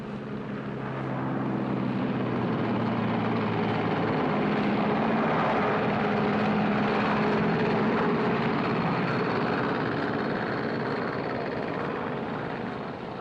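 Propeller airliner engines on a 1948 San Francisco to Honolulu flight drone steadily and loudly for the whole stretch, a continuous close rumble with no voices.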